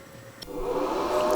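Cooling fans of a Houli 2500W power inverter spin up under load, a steady close whirring rush that grows louder after a brief click and holds on alone without talk.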